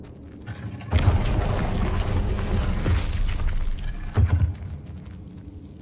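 A Confringo fire spell in Hogwarts Legacy goes off with a loud, close booming burst that rumbles and then decays, followed by a second heavy thump a few seconds later.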